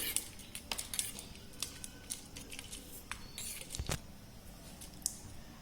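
A spoon mixes muesli with milk in a bowl, making close, rapid clinks and scraping taps against the bowl in an uneven rhythm throughout, with one firmer knock near the middle.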